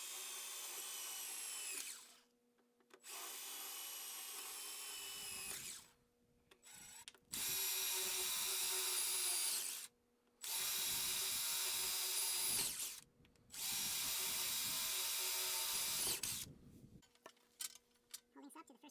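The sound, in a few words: power drill drilling through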